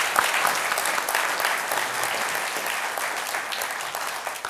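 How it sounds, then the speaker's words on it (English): An audience at a panel discussion on the OPM data breach gives the panelists a round of applause, a loud, continuous crackle of many clapping hands that holds steady and eases off slightly toward the end. "So a round of applause for the panel."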